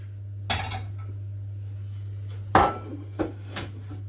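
Oven dishes are handled in a kitchen with sharp clinks and knocks, three or four separate hits spread out over a steady low hum, near and fairly loud, with no speech.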